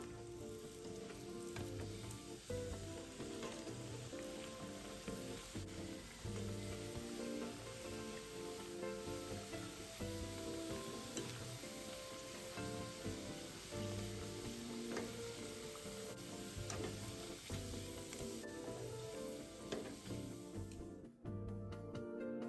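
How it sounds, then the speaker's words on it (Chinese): Tapioca-coated nian gao rice cakes sizzle while deep frying in hot oil, a loud continuous crackling hiss that holds steady throughout with no talking. "油炸至表面金黄色后即可离火，复炸后的年糕更酥脆"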